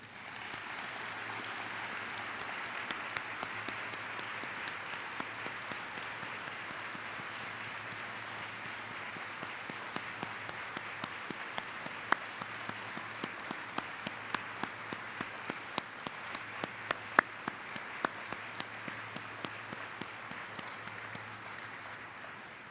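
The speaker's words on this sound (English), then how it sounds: "Please join me in a round of applause in memory of Jeff Appel." Conference audience at a 2019 FSA Training Conference giving a sustained round of applause in memory of a colleague, steady dense clapping from a large hall that continues evenly throughout with scattered sharper claps.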